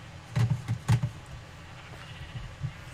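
A sheep in Minecraft bleats a few short, low, faint calls close together, followed by quiet.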